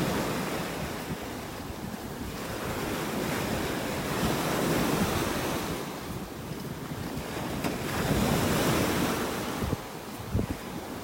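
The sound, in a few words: ocean waves on beach in North Naples, Florida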